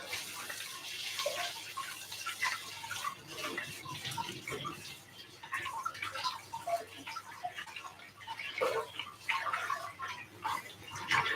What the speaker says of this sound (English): I'm just going to wash my hands really quickly.